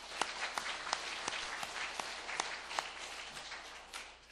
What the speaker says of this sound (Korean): 격려의 박수 한번 드리겠습니다